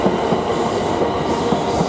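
A passenger train rolls into a station platform near Stratford, a loud, steady rumble of wheels and carriages with faint rhythmic clatter and no voices.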